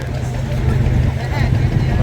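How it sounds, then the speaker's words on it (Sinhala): The Navy King ferry approaches the jetty bound for Nagadeepa island near Jaffna, its motor a steady low rumble close by, with voices talking over it. "ඔන්න guys බෝට්ටුවක් එනවා."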